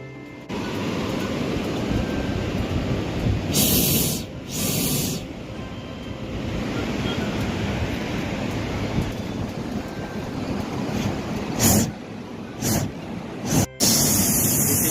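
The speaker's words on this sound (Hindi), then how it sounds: "this is Manali river also" Steady rushing water of the Manali river heard during a ride, a loud continuous roar with wind noise and a few short bursts of louder hiss over the whole stretch.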